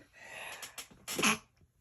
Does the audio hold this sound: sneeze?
yes